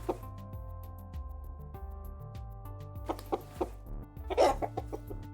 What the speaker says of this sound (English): Chicken sound.